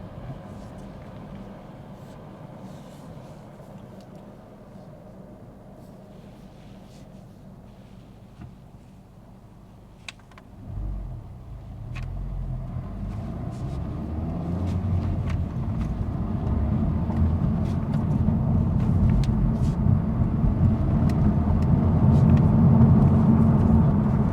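A Honda Civic Type R FL5 drives along, a quiet idle-like cabin hum at first, then a low engine and road rumble that swells and grows steadily louder as the car gets moving, no speech.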